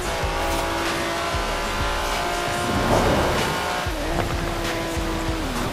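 A car on drift tires in Forza Horizon 4 roars loudly with a high-revving engine, squealing tires and skidding through a turn, gear shifts audible, continuous and close throughout.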